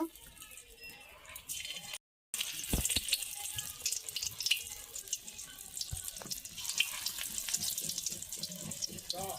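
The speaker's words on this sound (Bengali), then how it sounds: "আমি এইভাবে কড়াতে দেব, তেলে একে একে দেব" Prawn pakora balls dropped one by one into hot oil in a wok, crackling in a steady, dense sizzle after a short silent gap near the start, loud and close.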